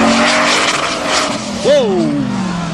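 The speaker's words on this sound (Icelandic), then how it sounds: "Æðislegur bíl, Allin." A Formula Offroad race car at a 2017 competition in Hella, Iceland, roars loudly and close, its engine note swooping and whining as the tires slide and skid, with an excited commentator's voice over it.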